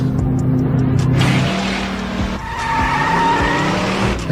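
Sound effect of cars skidding: loud, close tire squeals and revving engines that stretch across the whole stretch, with a sharp screech rising midway.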